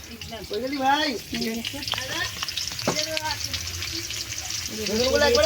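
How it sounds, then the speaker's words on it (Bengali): Potatoes fry in a pan on a gas stove, a continuous hissing sizzle with stirring clatter, while a voice talks intermittently over the cooking. "আলুটা ভাজা বসিয়ে দিয়েছি"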